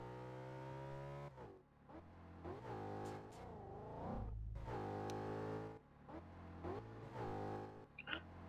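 Ferrari engine in a video game revving through a run of rising and falling pitch sweeps, loud and close, with short gaps between surges and no talk.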